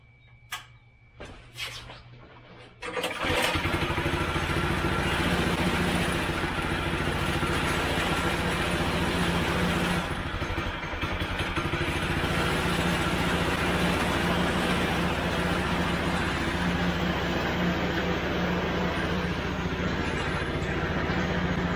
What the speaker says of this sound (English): now we're going to start up the engine and just see how rough it is